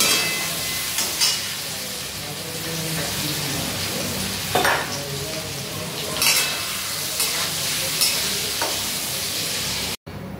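Potatoes fry in a pan with turmeric and salt, giving a steady close sizzle, while a spatula stirs in repeated scraping strokes and clinks against the pan.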